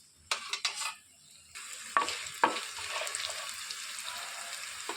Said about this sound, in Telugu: ఇందులోనికి 1 టేబుల్ స్పూను ధనియాలు వేసేసుకున్నాం.